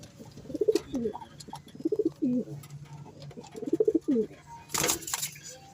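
Pigeons coo repeatedly nearby in soft, rhythmic rolling phrases, with a sharp burst of noise near the end.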